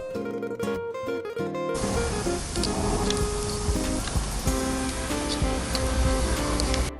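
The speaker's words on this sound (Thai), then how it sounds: "เสียงฉ่าของน้ำมันกระทบกับกระทะ" A loud, steady hiss of oil sizzling on a hot Thai moo kratha grill pan, spreading wide after a brief tonal opening and continuing unbroken to the end.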